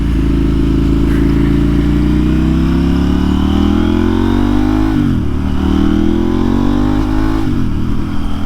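A KTM motorcycle engine revs loud and close, its pitch climbing steadily before dropping sharply twice as gears shift, with a constant throaty drone throughout and no voices.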